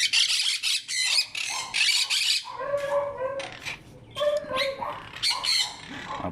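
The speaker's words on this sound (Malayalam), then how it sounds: "ഇവിടെ കിളികളൊക്കെ ഉണ്ട് കേട്ടോ. മോങ്ക് പാരറ്റാണിത്." A monk parrot at a pet shop in Thrissur gives loud, harsh squawks in repeated close bursts, with brief quieter gaps between the calls.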